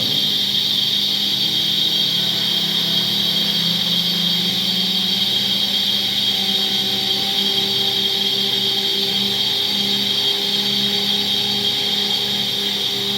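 Two centrifugal pumps run together on a two-stage series and parallel test rig, spun up to about 2000 RPM. They make a steady, continuous mechanical hum with a high tonal whine throughout, with no talking.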